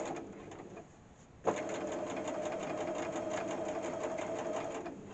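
A sewing machine stitches a flat felled seam in one steady, close run that starts after a brief pause and continues evenly to the end.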